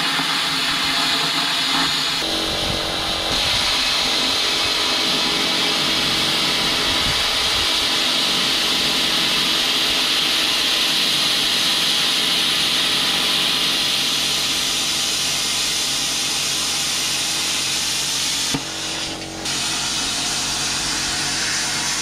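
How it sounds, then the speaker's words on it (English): Plasma cutter slicing through steel plate for a BBQ smoker build, a loud, steady broadband hiss and roar held almost continuously, with a brief break and change in tone near the end. "we had an issue with the grinder spinning out, so we'll just do this with a plasma"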